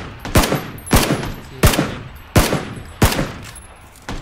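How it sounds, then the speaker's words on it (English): Sharp gunshots ring out in an exchange of fire in PUBG Battlegrounds, six loud, distinct cracks spaced roughly two-thirds of a second apart, each with a short echoing tail. "There is another guy. Shooting at me. I'm shooting at him."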